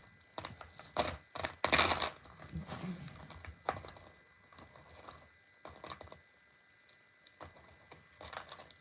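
Loose pennies and other coins clatter and jingle in repeated bursts as they are sifted and dropped by hand, the metallic rattles coming close and irregular with brief quiet gaps between handfuls.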